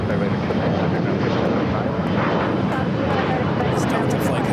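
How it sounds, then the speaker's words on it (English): A Delta airliner arrives from Dallas–Fort Worth to land at LAX, its engine roar a steady, loud wash throughout with no quieter gaps. "It's Delta flight coming in from Dallas, Fort Worth, Texas."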